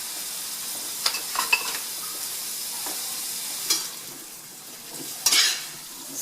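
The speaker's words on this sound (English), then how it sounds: "Our chicken is starting to cook, and the onions are also starting to cook, and I'm going to toss them in olive oil." Chicken and onions stir-frying in olive oil make a steady low sizzle. Over it come a few sharp scrapes and clatters as the pan is tossed, with two louder bursts near the end.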